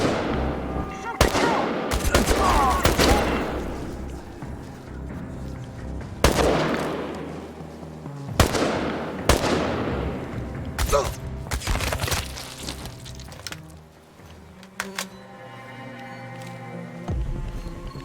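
Gunfire in the video game Chernobylite: scattered heavy shots and bursts ring out at a mid distance, mixed with thuds and game ambience, with loud reports spread across the stretch and a quieter tail near the end.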